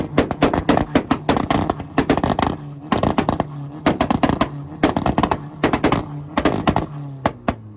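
A Volkswagen car at a North Carolina two-step rev battle fires rapid, loud bursts of popping revs off the limiter. The close, choppy volleys come in repeated runs with short gaps, sounding almost like gunfire.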